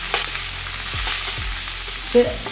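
Onions for a masala curry sizzle steadily in a hot pan, with a few soft stirring scrapes and low thumps as they fry, continuous and fairly close with no talking.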